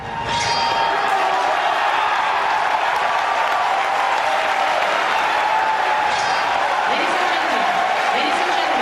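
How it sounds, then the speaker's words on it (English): A large crowd at a Nintendo E3 showcase erupts in loud, sustained cheering and applause as Shigeru Miyamoto comes out, a dense roar of whoops and clapping throughout. "This has got to be one of the most hype crowd reactions of all time, and Miyamoto coming out with a Hylian shiel"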